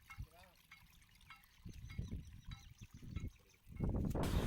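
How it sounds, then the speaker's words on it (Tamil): Water runs down and flows along a channel at a fishing spot in Pamban, trickling softly at first and swelling into a louder rushing flow at the end, with someone talking over it. "வந்து இதில் ஓடுது தண்ணி."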